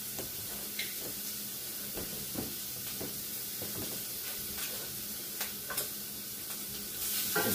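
Shrimp frying in a skillet beside a heating honey sauce, a steady soft sizzle broken by several sharp scrapes and taps of a utensil stirring, no voices.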